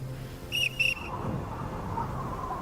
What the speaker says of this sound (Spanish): Para informar a sus hombres, Howard cogió el silbato de su oficial y de forma repetida en código Morse hizo la señal V de victoria